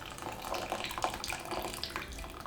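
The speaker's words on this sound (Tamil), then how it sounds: "ஃபுல்லாக கொஞ்சம் ப்ரெஸ் பண்ணோன்னா இந்த தண்ணியெல்லாம் வந்துடும்." Whey water drains and splashes as homemade paneer is pressed in muslin cloth, a soft continuous trickle with small irregular spatters.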